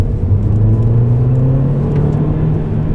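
Mercedes A45 AMG with automatic gearbox accelerating hard, foot down, a steady loud engine drone that rises in pitch, heard from inside the car without talk.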